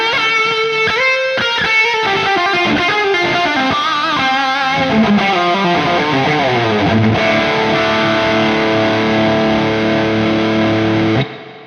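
Distorted electric guitar played through a NUX MG-30 multi-effects unit with noise gate, amp model, cabinet IR and reverb, sustained gritty chords and riffs ringing loud and steady for about eleven seconds before cutting off.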